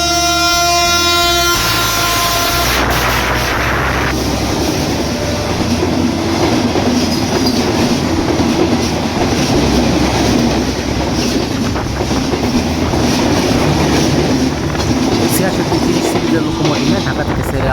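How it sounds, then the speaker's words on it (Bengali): Nilsagar Express intercity train passing through Azimnagar railway station on line two: a loud, close rush and rumble of carriages with rhythmic clatter, a horn at the start and some wheel squeal, sustained throughout. "নীলসাগর এক্সপ্রেস আজমনগর রেল স্টেশনে আসছে দুই নম্বর লাইন দিয়ে"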